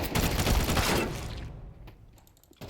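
Rapid automatic gunfire from a first-person shooter PC game rattles loud and dense for over a second, then thins out into a few scattered shots over quiet background.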